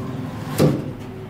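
An elevator door in an MBTA parking garage gives a single short thud as it moves, a brief close knock against a quiet hum.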